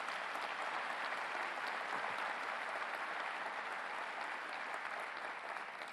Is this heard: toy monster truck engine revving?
no